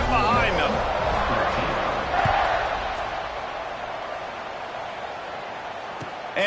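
A college football stadium crowd roars at kickoff after an extra point, a broad sustained wash of cheering that slowly fades, with an announcer talking over it.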